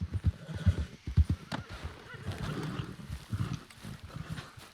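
Hooves clip-clop in a quick uneven rhythm nearby, followed by a horse's drawn-out neigh and snorting.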